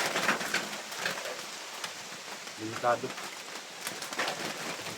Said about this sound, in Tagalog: Dahil malakas ng ulan.